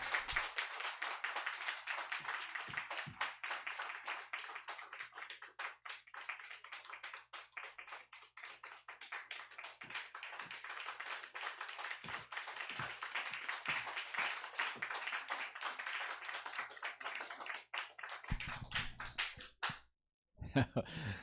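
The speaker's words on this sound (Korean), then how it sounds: "박수로 맞이해 주시면 감사하겠습니다" A church congregation at a women's mission worship service claps steadily to welcome a visiting pastor, a dense, continuous patter of many hands that lasts nearly twenty seconds before stopping abruptly.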